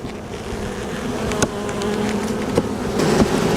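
A dense swarm of bees droning steadily around an open, heavily populated beehive, close and loud, with a few faint knocks from the hive being handled.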